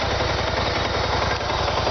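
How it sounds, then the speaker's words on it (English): A 2013 BMW 650GT motorcycle engine runs with a rough, knocking idle, a steady close chugging rhythm filling the clip at constant loudness with no talk. "it is a really rougher sounding engine"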